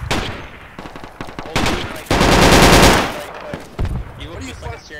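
AK rifle fire in the military shooter Project Reality, a loud burst of rapid automatic shots over about a second, set among scattered nearer and distant gunfire and explosions.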